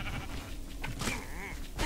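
A sheep in the video game Minecraft Dungeons bleats once, a short wavering cry amid faint game sounds, moderately near and fairly quiet.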